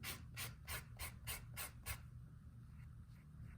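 Sandpaper rubbing gently along the edges of a leather cardholder, seven quick rasping strokes in a steady rhythm, close and fairly quiet, then a softer scuffing hush.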